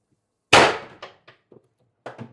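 An X-68 CO2 launcher firing a 10g riot ball from a 36g cartridge: one sharp, very loud shot up close, followed by a few fading clanks and thuds and a last double knock.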